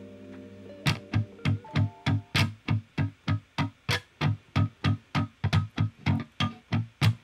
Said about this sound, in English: a muted string playing all the notes evenly